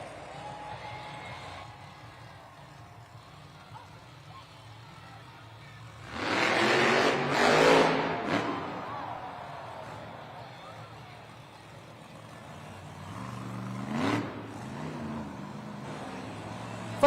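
The Earthshaker monster truck's engine roars up in a loud surge during a sky wheelie attempt in an arena, then drops back, with another shorter rev later over a steady crowd and arena hum.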